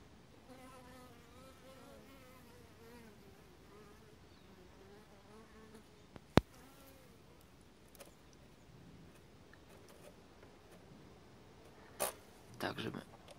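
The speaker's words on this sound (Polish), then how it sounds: "Zdrowe pszczoły." Healthy honeybees in an apiary hive in December give a faint, steady buzzing drone, with sparse clicks and a few louder knocks near the end.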